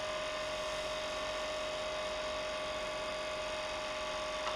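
A lathe spins a plastic feather pen blank under a light cutting tool, producing a constant high, whining motor tone layered over a steady buzzing hum, close and unchanging, with no talking.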